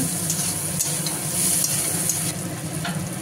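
Sugar being stirred in a hot pan of oil to melt and caramelize for a Bengali curry, a loud close sizzle with scraping stirring strokes over it, continuous and without talk.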